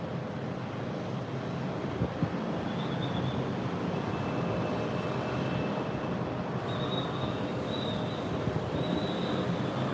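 A passenger jet takes off or lands at Ninoy Aquino International Airport in Manila. Its broad, steady roar stays loud throughout, with faint high whining tones above it and no voices.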